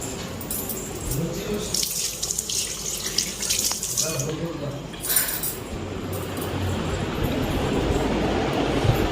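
Tap water runs into a pot as rice is washed at home, a moderate hiss with splashing bursts that grows steadier and louder toward the end, while household voices talk now and then.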